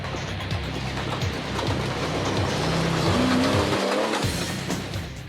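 A Jeep Wrangler LJ with a 4-liter engine climbs a hill on an off-road trail, the engine droning loudly and steadily with shifting revs, and tires crunch and rumble over rough ground nearby.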